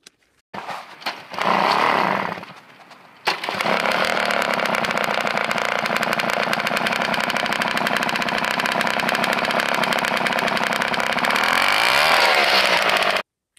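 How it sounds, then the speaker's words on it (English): A moped engine starts, stutters and catches, then settles into a loud, buzzing, rapid-firing run that holds steady and close for about ten seconds before cutting off abruptly. "The moped starts."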